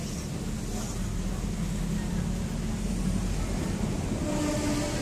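A train rumbles overhead near Juanda station in Jakarta in a steady, loud, low roar that continues throughout, with a faint squeal toward the end.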